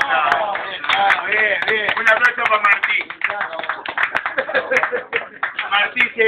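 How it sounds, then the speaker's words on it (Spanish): A group of people claps at an informal gathering, with sharp, irregular hand claps mixed with talking voices close by. "¡Un aplauso!"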